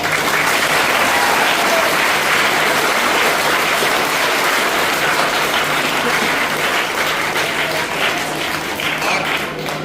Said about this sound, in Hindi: एक बार जोरदार अपने मम्मियों के लिए तालियां बजाओ।